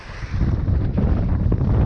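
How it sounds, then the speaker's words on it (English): Strong wind buffeting the microphone on the shore at Folkestone Warren, a loud, continuous low rumble with no voices. "That wind is lovely."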